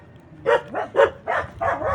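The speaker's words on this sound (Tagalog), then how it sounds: "Wala may aso din dito. Dami siyang aso." Dogs at a house in the Philippines bark in a quick series of five sharp yaps, moderately close, with faint background noise between barks.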